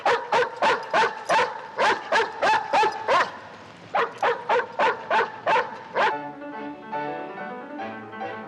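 A dog lets out a quick, rhythmic series of about twenty clear barks and yelps in two bursts, then whimpers softly and steadily near the end, with no talking.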